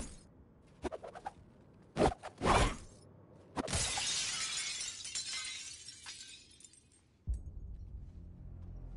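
Glass shatters as a merch stand is smashed in the Suicide Squad video game: a few sharp cracks lead into loud bursts of breaking glass, then a long crashing, tinkling spill that fades, followed by a low thud.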